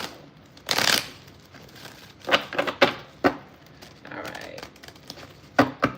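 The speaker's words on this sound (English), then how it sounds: "One more shuffle." Tarot cards shuffled by hand, a burst of riffling followed by several sharp papery slaps and crinkly handling sounds, close up, with a voice speaking briefly.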